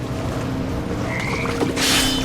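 Toads croaking in the video game What Remains of Edith Finch, low rasping croaks over a murky ambient bed, moderately close and loud, with a higher hiss near the end.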